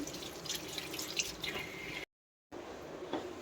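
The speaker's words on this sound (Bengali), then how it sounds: "সবজি ধুয়ে নিচ্ছি।" Vegetables rinsed under running tap water at a kitchen sink: a steady, close splashing and dripping that cuts out abruptly for a moment, then resumes.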